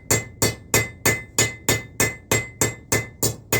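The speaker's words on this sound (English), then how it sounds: "I'm just going to planish the whole thing." A hand hammer planishes a hot steel taper during blacksmithing, striking about eleven sharp, ringing metallic blows at an even, brisk rhythm, close and loud with no talking.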